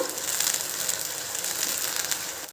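Mint leaves fry crisp in hot oil for a pudina masala mandakki snack, giving a steady, dense sizzle and crackle that holds evenly close-up throughout, then cuts off abruptly at the end.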